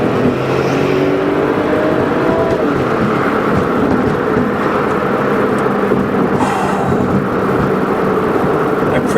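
A Porsche 911 (996) Turbo Coupe accelerates hard, its turbocharged engine giving a loud, sustained close-up roar with rising tones over a dense rumbling bed throughout.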